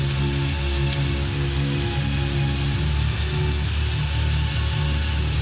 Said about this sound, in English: The rain is putting the fires out.